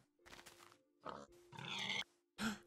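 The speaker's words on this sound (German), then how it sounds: "Da hinten sind Schweine." Pigs grunt and oink in Minecraft, several short close snorting calls in irregular bursts with brief quiet gaps and a faint steady tone underneath.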